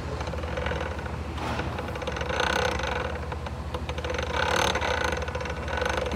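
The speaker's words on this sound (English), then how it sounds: "you can hear it clunking around and nothing is moving" Front hub of a four-wheel drive assembly spun by hand, the loose drive parts clunking and ratcheting in an irregular mechanical rattle, fairly close and steady with no talk.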